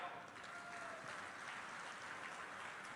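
Broad, dense clapping from a large crowd at a public inauguration rally in Gwalior, a steady continuous roar of hands that holds loud and even throughout.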